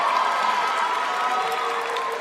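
An audience at a graduation ceremony applauds and cheers a student speaker being introduced, a dense, steady wash of clapping that stays loud and even throughout.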